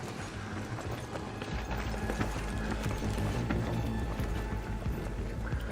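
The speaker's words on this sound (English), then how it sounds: "I hear a leaper stomping around." Heavy rhythmic stomping of a Leaper robot in Arc Raiders, a steady thudding gait that carries on throughout, fairly close amid dense game ambience.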